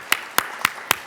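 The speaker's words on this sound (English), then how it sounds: "everybody give a round of applause" Four sharp, evenly spaced claps from a conference audience, crisp and fairly close with no voices over them.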